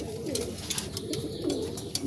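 Domestic pigeons, kept and bred as fancy birds such as Choco and Grizzle types, coo repeatedly in soft throaty rolls close by, overlapping in a steady chorus.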